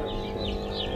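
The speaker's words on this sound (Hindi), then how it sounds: "ये सब बॉयलर" Broiler chickens clucking at a poultry feed and chick shop, a steady murmur of several birds close by with no talk over it.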